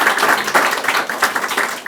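An audience at a Second Chance Month kick-off event applauds, a dense steady clapping from many hands that fills the short stretch at close range.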